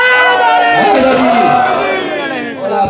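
A crowd at a religious majlis gathering chants a slogan in unison, loud and close, with a surging, voiced rhythm that swells and then fades toward the end.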